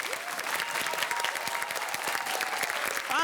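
Steady clapping from an audience at a school cup-stacking competition, a dense crowd applause holding at even strength throughout, with a voice starting to speak over it at the very end.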